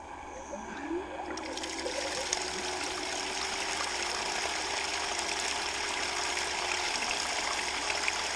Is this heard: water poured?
yes